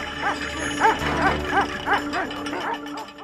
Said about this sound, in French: interrompue soudainement par un chien en liberté apparemment agressif